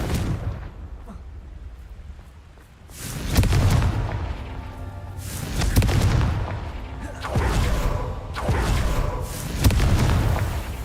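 Loud, booming blasts of the Confringo explosion spell from Hogwarts Legacy, three or four heavy detonations spaced a couple of seconds apart, each with a deep rumbling tail.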